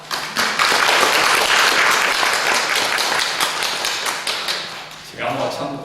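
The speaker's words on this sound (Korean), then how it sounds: "박수 한번 칩시다." An audience claps loudly and densely for several seconds at a church gathering, then the applause thins out and fades as a voice starts speaking near the end.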